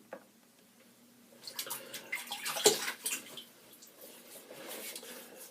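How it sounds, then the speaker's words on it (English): Water splashes from a tap as a face is rinsed before a shave, quiet at first, then rising into irregular splashing and running water with a single sharper splash. "So I'll rinse my face and we'll get going."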